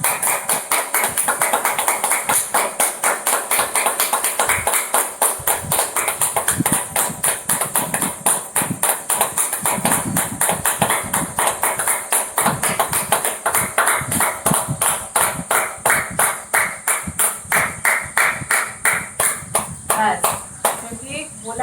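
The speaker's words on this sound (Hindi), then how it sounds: "चलो जोर से ताली मारेंगे" Rhythmic hand clapping during a yoga session, a long run of sharp, evenly spaced claps at a quick steady pace, with a voice talking over them at times.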